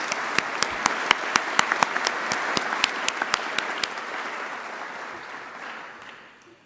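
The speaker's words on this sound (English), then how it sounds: "Perhaps we could give them a round of applause." Audience applause at a global pluralism award ceremony, a large hall of clapping with a few sharp close claps at first, fading gradually toward the end.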